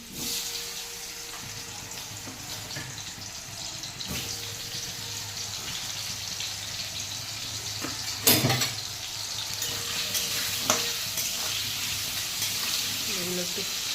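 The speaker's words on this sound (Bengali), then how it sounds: "আলুগুলোকে ভাজা করে নিই" Turmeric-coated potatoes fry in hot oil in a wok with a continuous hissing sizzle and a few sharp knocks and clinks, close up, throughout.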